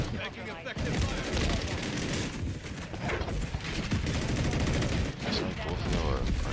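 Dense gunfire in Call of Duty, sustained bursts of rapid shots and booms filling the whole stretch loudly, with voices talking over the barrage.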